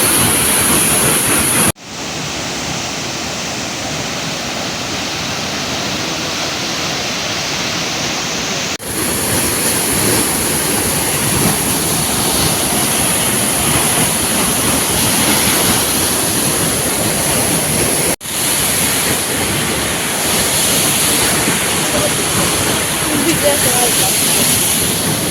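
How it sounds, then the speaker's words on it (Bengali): Water at Changey Waterfall near Lava crashes and splashes in a loud, steady roar that fills the scene for the whole stretch, close by, with a couple of brief cuts in the sound. "জল ছিটে আসছে"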